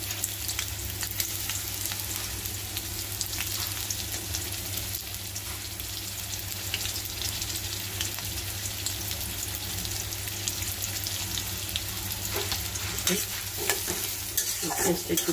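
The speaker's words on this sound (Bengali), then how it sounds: "একটু ভাজা ভাজা হোক," Sliced onions fry in oil in a pan with a steady, even sizzle and occasional stirring scrapes, close and constant for the whole stretch without any voices.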